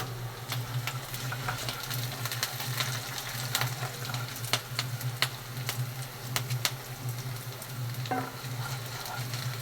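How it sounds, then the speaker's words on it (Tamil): Cabbage frying in a pan, a steady close sizzle with scattered crackles and pops running continuously over a low hum, no talking. "நம்ம வந்து முட்டைக்கோஸு பொறிச்சுக்கிட்டு இருக்கோம்"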